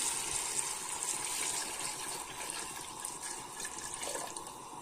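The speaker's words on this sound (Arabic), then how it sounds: "اللحمه بدات تغير لونها، هنزل بالميه." Water pours steadily onto browning meat in a pot for soup, a continuous, full splashing rush heard close up, with no voices.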